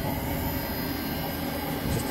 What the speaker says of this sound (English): What you hear right now is the water heater over here on the exhaust.